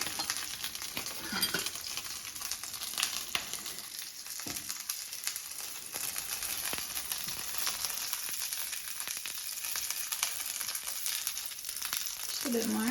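Dumplings pan-fry and brown in a pan with a soft, continuous sizzle, and a few faint scrapes and light clicks of tongs come through on top.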